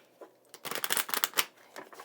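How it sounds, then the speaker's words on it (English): A deck of chakra cards shuffled close by in a quick, dense riffle of papery flutters lasting about a second and a half, with softer card handling before and after. "Then we have your chakra cards right here."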